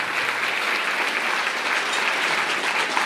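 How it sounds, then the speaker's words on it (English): A dinner audience at the Westcoast LEAF Equality Dinner applauds warmly, a steady, dense wash of clapping that holds at an even level throughout with no speech. "So I want you to all clap in honor of Kasari because we're videotaping it."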